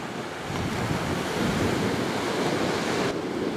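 Sea waves wash onto Lyubimovka beach in Sevastopol, a steady, close surf roar mixed with gusty wind buffeting the microphone, with no voices.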